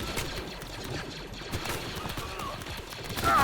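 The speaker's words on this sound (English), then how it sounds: "I'm taking too much fire." Dense, continuous gunfire from a Clone Wars base defense battle in Star Wars: Galaxy at War, rapid overlapping shots and bursts crackling steadily throughout with no pause, loud and busy with layered distant and nearer fire.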